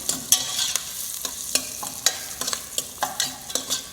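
Carrot, celery and onions sauté in a pan under a steady sizzle, punctuated by frequent sharp clicks and scrapes of a spoon stirring against the pan, close and moderately loud.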